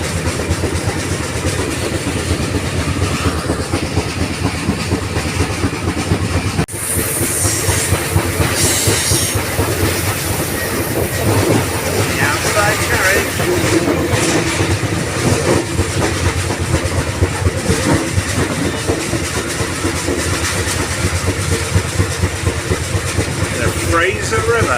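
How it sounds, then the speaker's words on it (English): A Rocky Mountaineer train rolls along the tracks beside the Fraser River, its steady clatter and rumble loud throughout, with wheel squeal and hiss rising at moments while voices talk over it. "That train on the other side still going."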